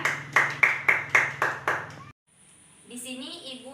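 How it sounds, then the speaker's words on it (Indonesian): A classroom of students in a chemistry lesson claps for a classmate: about six evenly spaced, sharp claps, then a sudden hush and faint voices. "Berikan tepuk tangan untuk teman kita."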